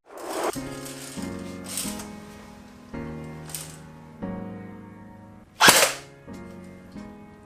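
Bursts of full-auto fire from a Snow Wolf M41A airsoft pulse rifle, rapid mechanical rattling in several short strings with a sharp louder crack near the end, over a steady electronic hum.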